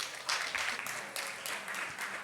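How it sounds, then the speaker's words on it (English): A stadium crowd claps in sustained applause, a broad, steady wash of many hands heard from a distance with small surges throughout. "Okay, everybody, big applause."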